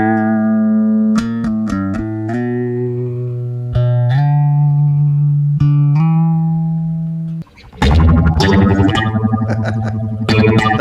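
An electric guitar through an Alexander Calavera phaser pedal plays sustained notes and plucked phrases with a sweeping, envelope-like swirl, then turns into louder, denser, distorted strumming near the end.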